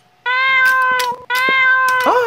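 A cat gives two loud, drawn-out meows close by, the second rising into a strained yowl at the end, with no talking.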